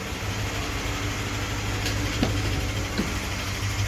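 A truck engine idles after an engine swap, a steady low droning rumble heard close and continuous, with a couple of faint clicks over it and no talking.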